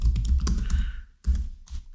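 Someone types C code on a computer keyboard in quick irregular bursts of clacking keystrokes, with a short pause midway, close and clear, and no talking.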